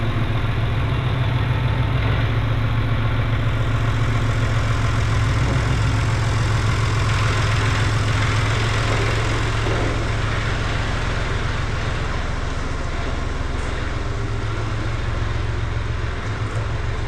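A farm tractor engine idles steadily and loudly up close, a continuous low rumbling drone with a throbbing, even rhythm that holds unchanged throughout, with no voices.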